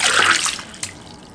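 Water pours fast into a cup and splashes over the rim in a short, bright gush that tails off into a few drips.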